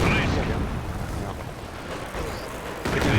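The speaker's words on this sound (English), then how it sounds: "Scary barrage then." An artillery barrage rumbles on a Company of Heroes battlefield, a dense, muffled roar of distant shelling that stays steady and booms up again near the end. Voices can be heard faintly under it.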